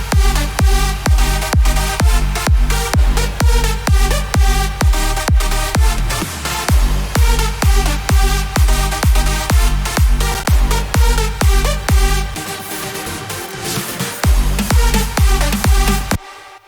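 Loud electronic dance music pounds with a steady four-on-the-floor kick and bright, stacked synth leads, continuous throughout and briefly thinning near the end.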